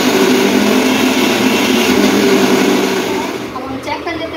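A mixer grinder churns dosa batter, a loud, steady whirring roar that runs for several seconds and then drops away near the end into quieter sounds.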